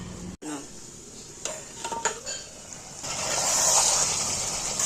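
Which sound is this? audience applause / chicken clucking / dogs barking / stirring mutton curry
stirring mutton curry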